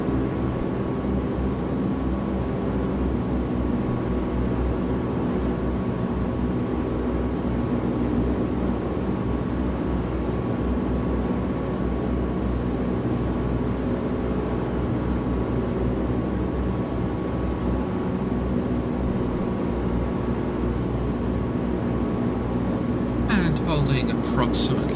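Steady aircraft engine drone at maximum continuous power during the climb in a flight simulator, a constant dense hum holding throughout with a faint tonal whine above it, and no talking.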